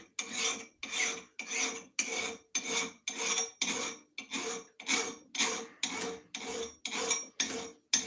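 Axe steel is sharpened to take off a burr, heard as a dozen even, rhythmic rasping strokes, close and crisp, each separated by a short pause.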